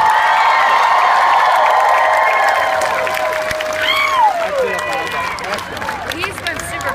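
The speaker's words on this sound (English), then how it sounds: "Round of applause for all the bands that played today." Concert crowd applauding the bands at the end of a show, a broad sustained wash of clapping and cheering that swells and fades, with a voice speaking over it at the start.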